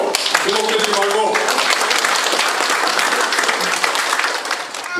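Many hands clap in loud, continuous applause as a priest comes to the stage at a civic memorial service. A voice sounds over the first part of the clapping.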